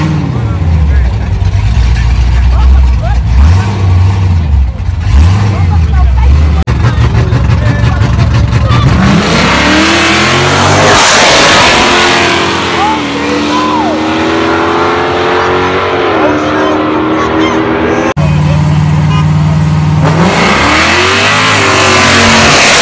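Cars rev their engines during a downtown St. Louis street racing takeover, loud roaring and rising revs close by over a busy crowd, with people talking and shouting underneath.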